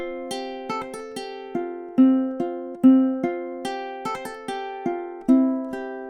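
A ukulele plays measures 3 and 4 of Deck the Halls: steady, close strummed chords in an even beat, with no voices over the instrument.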